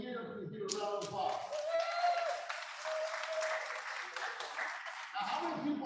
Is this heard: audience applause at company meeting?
yes